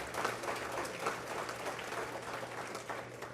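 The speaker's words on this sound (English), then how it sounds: "let us all give Cy-Man a round of applause" Sustained audience applause at a legal awards and silent auction evening, steady dense clapping from a crowd with no voices over it.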